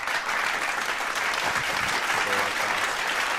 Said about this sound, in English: A lot of claps